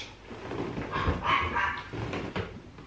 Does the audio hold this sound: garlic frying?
no